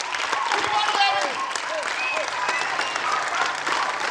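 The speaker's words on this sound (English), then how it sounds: "Let's give them a big round of applause for all these ladies and gentlemen." Audience at a culture and heritage event clapping in a big round of applause, dense and steady, with voices and cheering calls audible over the clapping.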